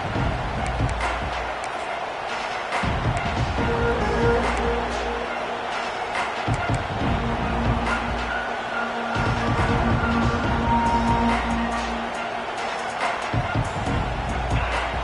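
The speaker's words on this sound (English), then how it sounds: "This crowd trying to make life miserable for this offense." Stadium crowd at a Louisville vs UCLA college football game, a dense continuous roar with surges of cheering and rhythmic pulses, loud and close throughout, with no clear speech.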